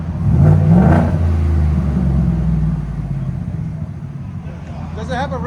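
A 2021-2026 Ford F-150 with a 5.0L V8 and an aftermarket muffler revving up close, a loud deep exhaust rumble that swells and eases, while people talk over it.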